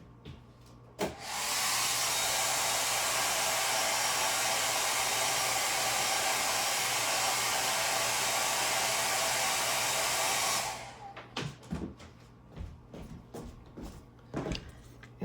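A hair dryer roars loudly and steadily for about ten seconds as it quickly dries wet watercolor paint, starting abruptly and cutting off sharply, followed by a few light clicks and handling noises.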